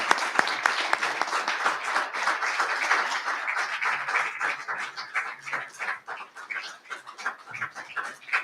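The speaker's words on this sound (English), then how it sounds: "please give a warm round of applause for Jared Quan." Audience applause at an awards ceremony honoring recipients, dense steady clapping that carries through the whole stretch and thins slightly toward the end, with no talk over it.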